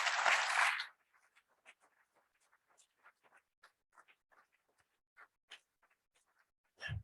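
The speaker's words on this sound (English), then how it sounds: "please give them a round of applause again" Audience applause at a community climate conference swells in a loud burst for about a second, then drops to scattered faint sounds before a brief final flare.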